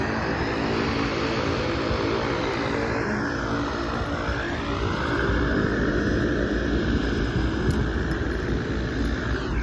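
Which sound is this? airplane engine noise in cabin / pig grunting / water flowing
airplane engine noise in cabin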